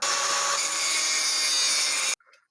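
Wood being sawn with a power tool while building a camera stand, a loud continuous harsh cutting whine that runs for about two seconds, then stops abruptly, followed by a faint brief rattle.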